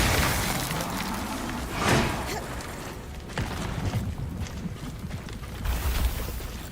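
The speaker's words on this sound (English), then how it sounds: "Fire explosion." A fire explosion in the video game Eternal Strands, a broad crackling burst rising to a peak, then further rumbling impacts and scattered debris-like clatter amid continuing game noise.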